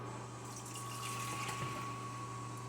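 Water running into a measuring cup or pot, two cups for Mexican rice, a steady close splashing flow over a low hum that ends in a sharp clatter.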